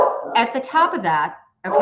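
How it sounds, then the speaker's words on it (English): A pet dog barking loudly and repeatedly close by in a home, several quick yappy barks in a run, a short pause, then another bark, with a voice talking over them. "I apologize for my crazy barking dog."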